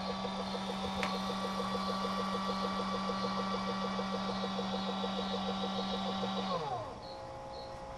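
An electronic powder dispenser trickling H4831 rifle powder for reloading, a steady close mechanical whir with a rapid pulsing rhythm that winds down and stops near the end, with no talking.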